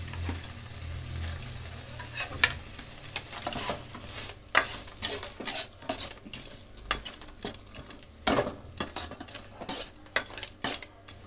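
Tamarind fries in a pan as chitranna ingredients are tipped in and stirred, with a continuous sizzle under busy spatula scrapes and metallic clinks against the pan.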